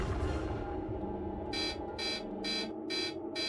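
An alarm at highly sensitive scientific detectors buzzes in five evenly spaced, harsh electronic bursts over a low rumbling background, loud and regular after a short quieter lead-in.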